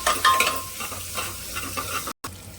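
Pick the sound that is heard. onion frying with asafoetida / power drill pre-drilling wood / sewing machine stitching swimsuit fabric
onion frying with asafoetida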